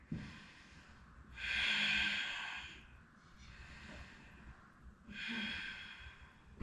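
Slow, deep breaths during a yoga back bend, with long audible inhales and exhales in a steady rhythm, close and soft, with no talking.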